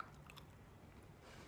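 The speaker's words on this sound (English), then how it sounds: "Take a bite." A single close bite into a baked sweet potato-flavored white chocolate treat with a thin outer crust, a soft crunch followed by quiet chewing, with no talking.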